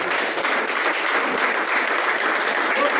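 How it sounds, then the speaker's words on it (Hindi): A seated audience at a company event claps loudly and steadily, a dense, even wash of many hands filling the room throughout. "सारे लोगों को सम्मान के लिए एक जोरदार ताली बजाइए।"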